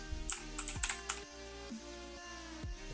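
Keys pressed on an Aukey KM-G6 mechanical keyboard, a quick run of sharp clicky presses followed by a few slower isolated taps, faint and close with no talking.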